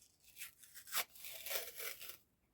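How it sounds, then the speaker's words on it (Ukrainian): Paper ripping close up as a paper surprise packet is torn open along its perforation, in a few quick bursts of tearing and crinkling that rise and fall before fading out, quiet and with no talking. "перфорація прям клас і порвався пакетик"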